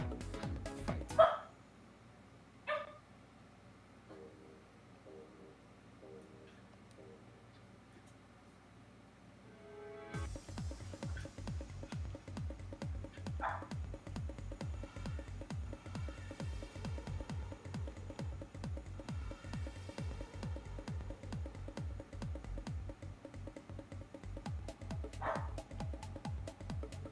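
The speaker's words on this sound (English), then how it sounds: "Dog is going nuts." A dog barks a few scattered times, sharp and fairly faint, over a low droning background that grows louder partway through, with long quiet gaps between barks.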